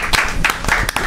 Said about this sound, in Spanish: un gran amigo, un gran aplauso